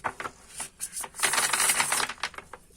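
A deck of tarot cards is shuffled by hand in quick bursts of crisp riffling and flicking, close and fairly loud, with brief pauses between runs and no talking.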